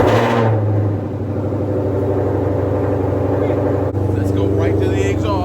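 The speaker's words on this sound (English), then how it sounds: "We gotta do a cold start." A car engine cold-starts and settles into a loud, steady rumble with a droning harmonic tone and a brief sharp blip partway through.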